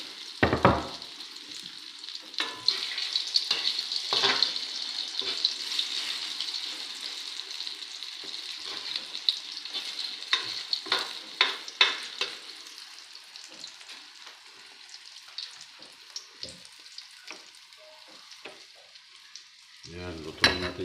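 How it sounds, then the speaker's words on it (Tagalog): Scrambled eggs frying in a pan for breakfast, a soft continuous sizzle broken by frequent sharp clatters and scrapes of a utensil, fairly close and with no talking. "Scramble egg."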